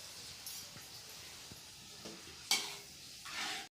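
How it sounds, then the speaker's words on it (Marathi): Paste of onion, garlic, coriander and ginger frying in a pan for fish curry, a soft steady sizzle with scattered light clicks, then a louder stirring burst and a rising hiss toward the end, close and without talk. "पेस्टला असं लालसरपणा येईपर्यंत मस्त भाजून घेऊ आपण"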